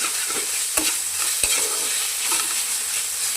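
Bet (rattan) greens stirred with mustard oil in a frying pan, with a soft continuous sizzle and a few sharp scraping clacks of the spoon against the pan, and no talking.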